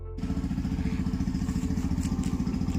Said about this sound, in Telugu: స్టార్ట్ అవుతున్నాం, బండి తీస్తున్నాం.